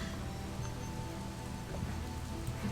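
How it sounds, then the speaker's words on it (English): Steady rain falling in Animal Crossing, a soft continuous patter on surfaces that holds an even level throughout with no voices over it. "It's also raining in the game."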